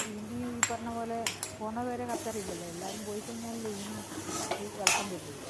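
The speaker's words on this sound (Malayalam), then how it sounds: "മല്ലിയിലയും ചേർത്ത് നമ്മൾ നല്ലപോലെ ഒന്ന് ഇളക്കി കൊടുക്കുക" Chapati upma with coriander leaves being stirred in a pan, soft scraping and gentle sizzle beneath a voice talking throughout, with a couple of sharper utensil taps.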